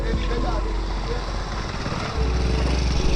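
Construction machinery at bullet train works near Kalupur metro station in Ahmedabad, a steady low engine drone and rumble nearby that grows slightly louder toward the end.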